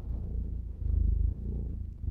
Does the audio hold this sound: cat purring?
yes